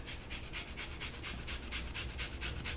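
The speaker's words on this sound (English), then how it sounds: "So if you got a little microplane or a cheese grater, just come in here" Fresh lemon rubbed against a microplane grater for zest, giving a steady run of quick, even rasping strokes, close and fairly quiet, with no talking.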